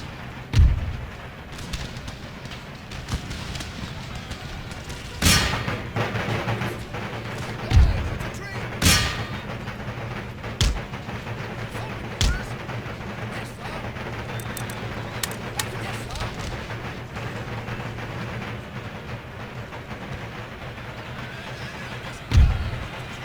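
Scattered musket volleys and booming artillery shots from an Empire: Total War battle in Greece, sharp isolated cracks spaced irregularly over a low rumbling battlefield bed.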